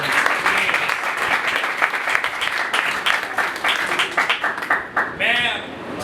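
Loud, sustained applause from a church congregation during a worship service, with voices and singing mixed in underneath and toward the end.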